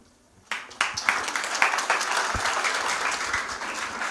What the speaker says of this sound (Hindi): बहुत सुंदर प्रस्तुति के लिए ताली बजा करके हम हमारे किड्स को प्रभु को धन्यवाद देंगे।